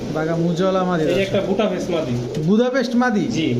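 Pigeons, including female racing birds, coo repeatedly at a close pigeon market where imported Pakistani Teddy and golden breeds are sold, their rolling calls mixed under nearby conversation.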